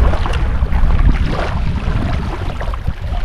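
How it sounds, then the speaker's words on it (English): Gusty wind sweeps across a lake during a kayaking outing in Lackey, Nebraska, a steady rushing roar buffeting the microphone, with no voices. "There's a good gust going on here."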